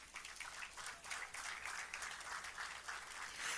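A congregation in church applauds, a fairly soft but continuous patter of many hands clapping with slight swells in intensity and no clear speech over it.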